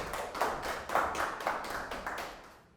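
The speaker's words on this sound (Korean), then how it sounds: "큰 박수로 맞으시기 바랍니다" Lecture audience clapping to welcome a guest speaker at a local history lecture in Seogwipo, Jeju; a small crowd with soft, steady claps pulsing together, tapering off toward the end.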